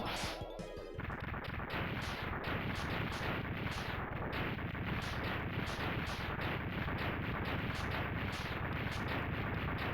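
Charged buster shot fired in Mega Man X2 during a boss fight, a brief burst at the start followed by a sustained, dense wash of crashing, explosive game noise with rapid repeated impacts throughout.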